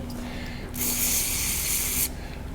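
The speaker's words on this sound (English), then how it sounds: "I'm just going to give it a bit of a spray with some carby cleaner" A steady spray of carburettor cleaner hisses for about a second and a half, close and loud, then cuts off sharply against a quiet background hum.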